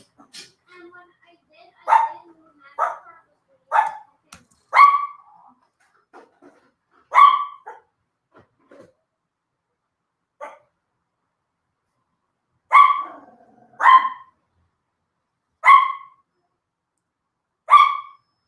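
A dog barks in short, sharp bursts, some doubled, spaced irregularly with long quiet gaps between them. It is clear and moderately close, with no other sound around it.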